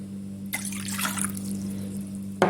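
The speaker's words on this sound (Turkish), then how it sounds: "Yoğurma kabıma 2 su bardağı ılık suyu alıyorum." Warm water poured into a kneading bowl for simit dough, a soft splashing stream starting abruptly and running about two seconds before stopping, fairly quiet over a steady low hum.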